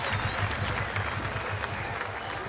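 Crowd at the FISE World Montpellier 2015 BMX Spine final cheering and applauding riders in the sunny afternoon, a steady dense wash of clapping and shouts that carries on unbroken throughout.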